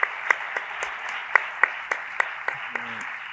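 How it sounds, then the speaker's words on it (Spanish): Audience applause at an international education congress, a dense steady wash of many hands clapping with a few sharper individual claps popping out, sustained evenly throughout with no voices over it. "Le damos un aplauso."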